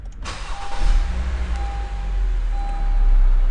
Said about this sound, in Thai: เดี๋ยวผมสตาร์ทรถให้ดูนะครับคันนี้